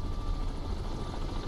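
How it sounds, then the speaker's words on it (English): A helicopter in the submarine video game Cold Waters gives a steady, dense rotor and engine rumble, loud and continuous throughout with no talk over it. "Dive, because that was a helicopter."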